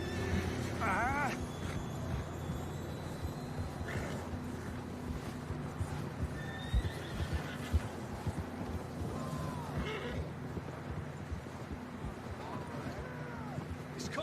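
Horses neighing with shrill, wavering whinnies in Red Dead Redemption 2, set against a steady outdoor game ambience while voices talk through the clip.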